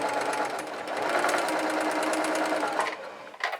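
A sewing machine runs steadily and loudly for about three seconds while stitching fabric face masks, then slows and stops with a short burst near the end.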